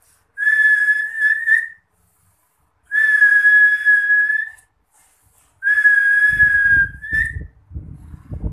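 A man whistles three long, steady, fairly loud tones, each a second or two long with pauses between. Soft low rustling or handling noise comes in during the last tone.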